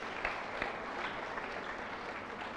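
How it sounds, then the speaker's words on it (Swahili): Audience applause at a Swahili arts event at Mary Leakey School, a steady wash of many hands clapping throughout, moderately close, with a few sharper claps standing out and no speech. "makofi kwake wanyonyi."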